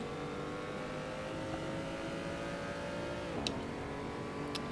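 Race car engine in the Assetto Corsa racing game holding a steady, loud drone with harmonic whine, dipping in pitch around a gear change midway, with a couple of faint clicks near the end.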